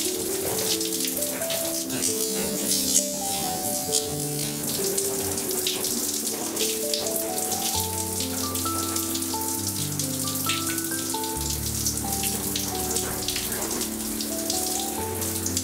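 Running water rinses long hair, a steady close splashing and trickling under background music.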